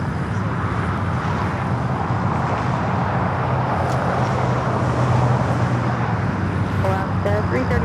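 An Alaska Airlines Boeing 737 MAX 8 takes off at Los Angeles airport, a loud continuous broadband jet roar with a low rumble holding steady throughout, plus a brief faint chirp near the end.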